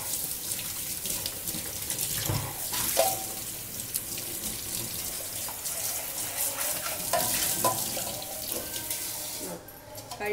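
Water runs steadily from a tap while plastic vegetable slicer parts are rinsed and rubbed underneath, with occasional clatters and splashes over a constant hiss.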